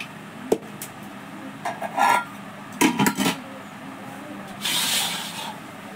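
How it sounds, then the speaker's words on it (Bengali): Rice being served onto plates for a home lunch, with a few bright clinks and clatters of dishes and a metal serving spoon in short separate bursts, close by, along with a soft scraping rush of rice sliding off. "এই যে ভাত বাড়ছি"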